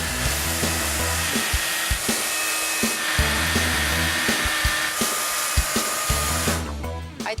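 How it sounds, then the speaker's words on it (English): A chainsaw carves a large block of ice into a swan at a culinary school, a loud, steady, close engine whine that drops and surges in short pulses as the chain bites, with no speech. "With chainsaw in hand, I had an hour to turn this hunk of melting water into a graceful swan."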